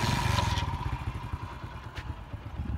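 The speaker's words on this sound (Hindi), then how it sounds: "मोटरसाइकिल पर हम जाने लगे हैं सिटी।" A motorcycle engine hums steadily and close as the bike rides along a village road toward the city, with a continuous mid-pitched drone and faint clatter.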